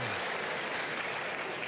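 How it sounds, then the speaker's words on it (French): An audience applauds loudly, a dense, continuous roar of clapping filling the short moment at close, steady volume with no voice on top; laughter cannot be picked out within it. "Audience riant et applaudissant bruyamment"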